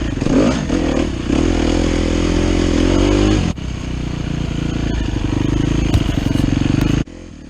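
A 2015 KTM 250 XCW dirt bike engine fitted with a Mega Bomb header and pipe, loud and close, idling with a raspy crackle, then revving up and holding high before cutting back sharply near the end.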